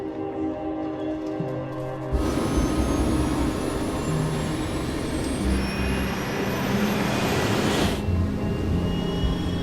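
Concorde jet engines on the takeoff roll: a loud, steady, broadband roar surges in after a low hum and holds throughout, with a faint rising whine over it and no talking.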